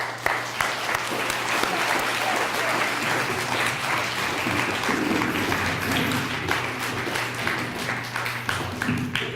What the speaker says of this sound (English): let's give Miss O'Toole's class a round of applause